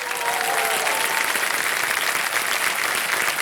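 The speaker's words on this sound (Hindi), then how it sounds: "तालियां बज जाए इनके लिए।" Studio audience applause on a televised Indian quiz show, a dense, steady burst of clapping that fills the whole stretch without a break and with no voices over it.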